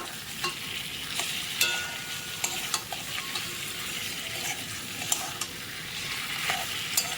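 Ground spice paste stir-fried with lailontika fish and potatoes for a fish curry, a steady close sizzle broken by sharp scraping stirs of the spatula in the pan, with no voices.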